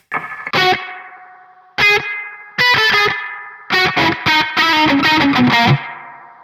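Guitar chords run through a heavy effect: bright zapping, laser-gun-like tones with a stuttering, rhythmic decay, played as several separate strums and bursts.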